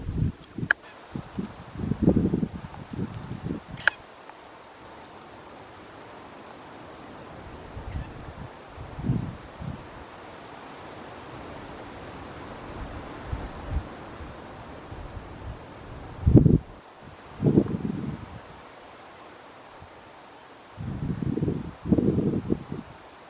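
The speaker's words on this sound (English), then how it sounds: "It's a little bit windy and cloudy." Wind blowing around a tree outdoors on a cloudy day with a storm brewing, giving a steady soft rush broken by several louder gusts that rustle the leaves up close.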